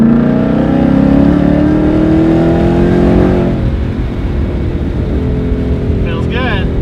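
A 2005–2014 S197 Ford Mustang GT with Viking Crusader shocks accelerates on a rolling shakedown drive, its loud engine note rising steadily for several seconds, then easing into a lower drone; a voice speaks briefly near the end.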